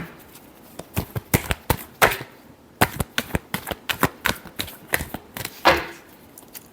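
Tarot cards are shuffled in quick, crisp flicks and riffles, close to the microphone, in irregular clustered bursts with short gaps between them, and no voice.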